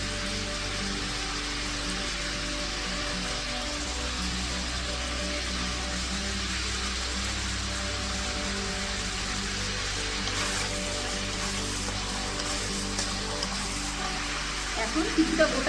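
Whole garam masala crackles and sizzles steadily in hot oil, a dense continuous frying hiss, close and fairly loud, lasting throughout with a few brighter pops near the end.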